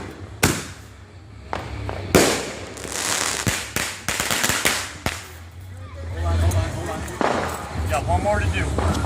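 Fourth of July fireworks cannons fire in a run of sharp, loud blasts, several close together, with crackling bursts and echoes in between while people talk and shout nearby.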